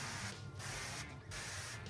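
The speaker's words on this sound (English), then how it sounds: "spray them with a little bit of cooking oil" Three short bursts of cooking oil sprayed from a can onto grill grates before smoking chicken, close and steady hisses separated by brief gaps.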